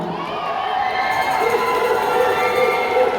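At a Miss Palawan beauty pageant, a large crowd cheers and shouts loudly and continuously for a contestant, a dense wash of voices and screams filling the whole moment.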